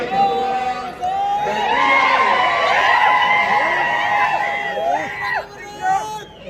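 A large crowd at a political election rally in Barshi, Solapur district, with loud sustained cheering, whoops and shouting voices layered together, close and continuous with a couple of brief dips near the end.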